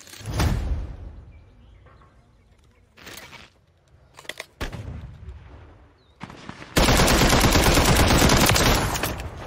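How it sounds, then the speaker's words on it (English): Gunfire in a multiplayer shooter video game: scattered single shots and short bursts, then a loud sustained burst of automatic fire near the end, heard up close with no talk. "I took way too many shots"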